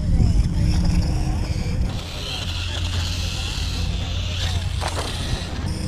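A Losi Mini LMT RC monster truck runs at full throttle off a bump into a wheelie, its motor whining steadily and loudly the whole time with a shifting pitch, under wind noise and a person talking.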